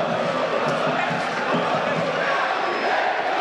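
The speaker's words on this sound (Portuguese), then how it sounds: "Escute só o grito da torcida aqui no Coraci" A stadium crowd of supporters roars and chants continuously at a football match, an Alagoano state championship semifinal between ASA and CSE, forming a dense, steady wall of voices with no pauses.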